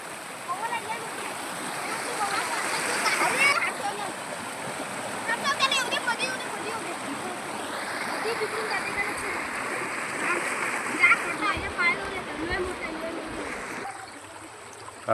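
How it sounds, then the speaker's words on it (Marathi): River water in a Konkan village rushes and splashes continuously nearby, a steady broad roar, with voices faintly audible over it. "पाणी कसा वाहते वरून"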